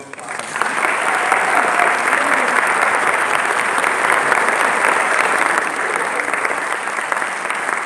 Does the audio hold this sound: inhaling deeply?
no